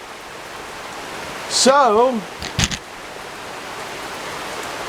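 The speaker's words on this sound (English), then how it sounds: "you can hear the rain in the background." Steady rain falls outdoors during an evening rain-out, a constant soft hiss running under the whole stretch, while a voice speaks briefly in the middle.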